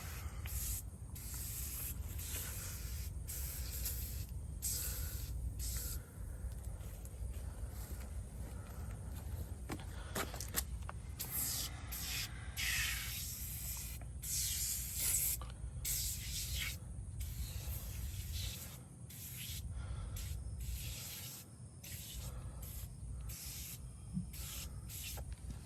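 A hose sprays water steadily over the transmission area beneath a 2003 Chevy Suburban during a 4L80E transmission swap, a continuous loud hissing wash that fluctuates as the stream shifts and splashes against metal.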